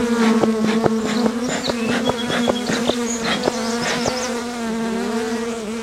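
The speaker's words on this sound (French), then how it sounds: "je m'attends à ce que vous entendiez juste un bruit sourd d'abeilles qui bat, des ailes" Bees buzzing right around the microphone outdoors, a loud, close, continuous droning hum of wings with sharp bumps as insects strike the mic, swelling and fading as they pass, no voices.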